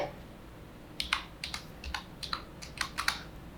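Brisk keystrokes on a computer keyboard while HTML code is typed, sounding as irregular clicks in small clusters, close and fairly quiet over a faint low hum.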